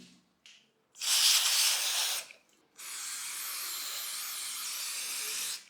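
A cleaning spray is sprayed onto a mountain bike in two bursts, a short loud hiss followed by a pause and then a longer, steady spray hiss, close to the microphone.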